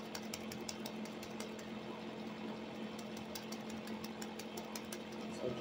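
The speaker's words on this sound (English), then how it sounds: "And excuse the background noise, y'all. I am cold, so I have my my old school heater plugged up." An old-school electric space heater runs steadily in a room, a constant mechanical hum and rattle with faint ticking, continuous and fairly quiet throughout.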